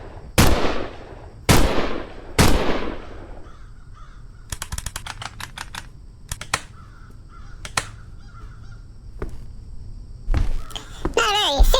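Gunshots in a video game as boxes are shot open: three loud shots ring out with echoing tails, followed by a rapid burst and scattered single shots. A voice talks at points.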